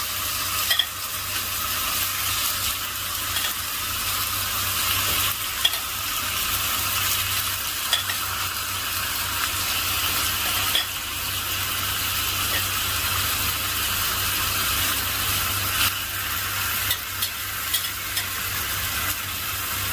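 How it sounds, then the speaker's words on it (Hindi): Marinated chicken browning in a tablespoon of olive oil in a pan, a continuous close sizzle with scattered pops and occasional scraping stirs, steady and unaccompanied by talk. "पैन के अंदर मैंने 1 टेबलस्पून ऑलिव ऑयल डाल दिया है। तो मैरिनेटेड चिकन को इसमें डाल देना है।"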